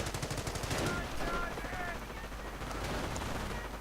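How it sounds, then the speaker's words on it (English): Rapid machine gun bursts in a video game battle between German troops and Rangers, dense repeated gunfire that runs continuously through the moment amid layered battle noise, with a voice faintly present underneath. "Machine gun fire hitting in on the German troops"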